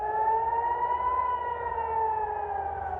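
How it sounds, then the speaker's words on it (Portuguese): An air raid civil defense siren wails during a missile attack on Israeli cities, a steady sustained tone with gently shifting pitch, loud and alone. "O sistema de defesa aérea foi ativado e as sirenes tocaram em várias cidades."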